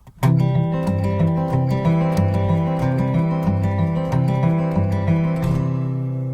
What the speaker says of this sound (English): And then muted with your right hand sounds a little different.